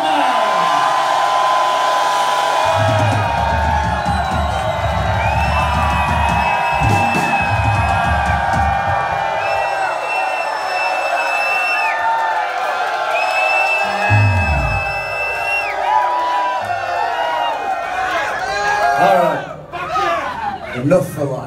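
A packed crowd at a live concert in Chicago's Empty Bottle club screams and cheers in a loud, sustained roar, with a voice calling out over it at times.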